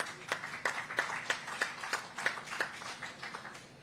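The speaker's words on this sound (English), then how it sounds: "Let's give him a big round of applause" Applause for a race winner at a SuperMotocross post-race press conference, heard as sparse, distinct hand claps in a steady rhythm from a small group, fairly quiet and without talk.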